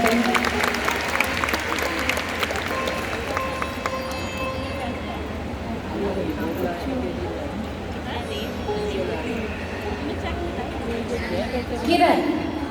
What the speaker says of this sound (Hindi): जोरदार तालियों से इनका उत्साहवर्धन करेंगे।